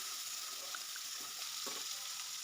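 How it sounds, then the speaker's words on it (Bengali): Tomatoes with salt cooking in a frying pan for a vegetarian snake gourd dish, giving a steady bright sizzle with a few soft stirring scrapes, close and alone. "দিয়ে কিছুক্ষণ এইভাবে নাড়াচাড়া করে নিব, তাহলে টমেটোটা খুব সুন্দরভাবে সিদ্ধ হয়ে যাবে।"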